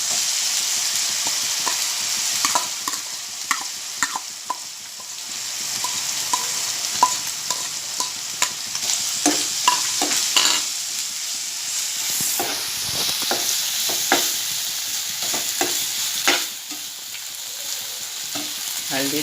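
Chicken fries in a pan with a strong, continuous sizzle and frequent clicks and scrapes of stirring throughout, loud and close.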